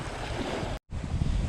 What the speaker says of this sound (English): it is getting windy here